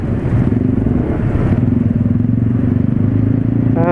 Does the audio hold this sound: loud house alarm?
no